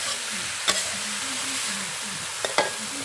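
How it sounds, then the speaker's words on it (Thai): Shrimp and mushrooms stir-fried with oyster sauce in a pan, sizzling steadily with a few sharp clacks of the spatula against the pan, close and alone. "ตอนนี้กำลังเพื่อนๆกำลังผัดกุ้งนะคะผัดกุ้งใส่เห็ดน้ำมันหอยค่ะ"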